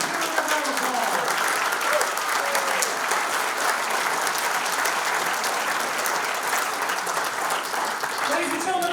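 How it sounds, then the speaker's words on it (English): A banquet audience applauds the 2022 St. Joseph Hall of Fame inductee class, dense continuous clapping with scattered cheers that holds steady before a voice begins at the end. "Give them a round of applause."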